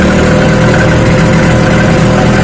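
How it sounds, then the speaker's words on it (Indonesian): A Honda Vario 125 injection scooter engine, with a fault that makes it sputter, runs loud and steady close by, holding a dense, rough drone with no voices. "Suaranya meletup-letup."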